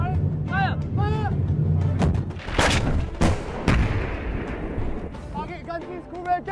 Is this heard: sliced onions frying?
no